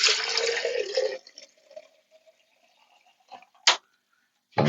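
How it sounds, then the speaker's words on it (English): Liquid pours steadily into a container for about a second, close by. Quiet trickles and a couple of sharp clinks follow. "And I'm going to pour this"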